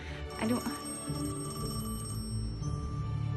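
A telephone rings indoors in a film scene: a faint, bell-like trilling mixed with soft background music, with no voices.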